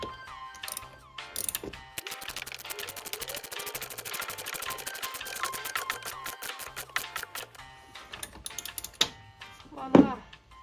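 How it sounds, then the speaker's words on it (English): A ratchet drives 12x65 mm half-screw, half-bolt fasteners into a timber beam, giving a long run of rapid, close, evenly spaced clicks that pause and resume, ending in a louder knock. "use like a ratchet and just tighten them up"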